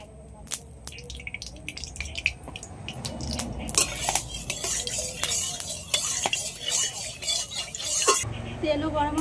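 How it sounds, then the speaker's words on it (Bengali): Mustard oil poured into a hot wok for frying koi fish, with metallic clinks of a spoon or utensil against the pan, a steady sizzle building midway and cutting out near the end. "কড়াই গরম হয়ে গেছে, কড়াইয়ের মধ্যে দিয়ে দিচ্ছি সরষের তেল।"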